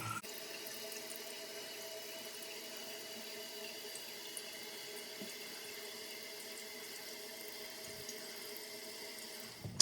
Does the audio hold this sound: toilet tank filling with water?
yes